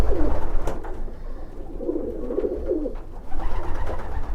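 Racing pigeons cooing inside a dusty loft with the outside doors shut, giving repeated low, throaty coos close by, overlapping in a steady murmur with no talk.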